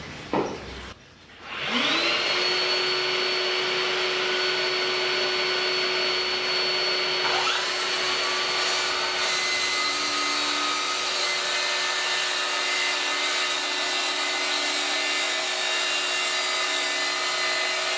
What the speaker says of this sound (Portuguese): Agora eu vou fazer o corte aí, pessoal, com o aspirador de pó para vocês verem.